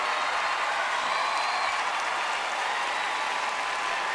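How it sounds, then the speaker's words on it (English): Large audience applauding at the Miss Universe 2018 beauty pageant, a dense, steady wash of clapping that holds evenly throughout with no voices on top. "Another round of applause for Africa and Asia Pacific."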